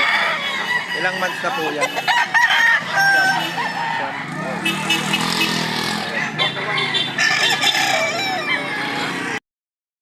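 Rooster sounds from an 11-month-old backyard-raised gamecock offered for sale, with crowing and clucking mixed among other fowl near and loud throughout, while people talk over them.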